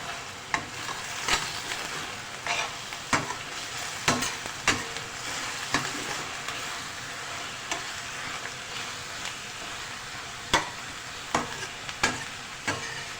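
Garlic ginger paste sizzles steadily in a hot pan, with a spoon scraping and clinking now and then as it's stirred, close by.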